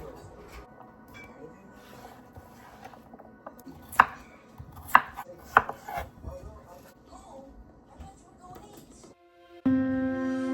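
Vegetables being chopped on a chopping board for borscht in a home kitchen, scattered knife strikes with a few sharper knocks, followed by a louder clatter near the end; faint speech sits beneath.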